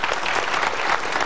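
A studio audience at a televised motivational talk show claps in a dense, steady burst of applause, close and loud for its whole short length.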